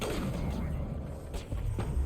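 Explosions and booming gunfire from the video game Mass Effect Legendary Edition, a dense rumbling barrage with several sharp blasts rising out of continuous low battle noise, with a voice also audible.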